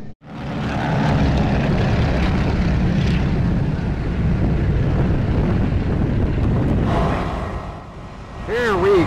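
A B-17 bomber's propeller engines roar steadily from inside the aircraft during a ride, a loud, close, unbroken drone with some wind rush, and a voice briefly sounds near the end.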